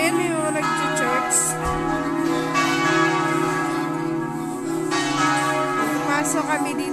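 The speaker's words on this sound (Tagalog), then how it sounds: "dahil linggo ngayon, maingay yung kampana ng simbahan" Church bells peal continuously on a Sunday in Venzone, Udine, Italy, several overlapping tones ringing out loud and resonant, with a faint voice now and then underneath.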